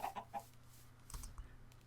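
Chickens in a video game cluck in a few short, clipped bursts, followed by faint scattered clicks and soft thumps; the sounds are quiet and there is no talking.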